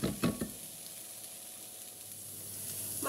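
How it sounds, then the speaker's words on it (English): A couple of brief clatters at the start, then a steady, gentle sizzle of onions frying in a pan with cooking spray. "Spray a frying pan with cooking spray and fry off the onions."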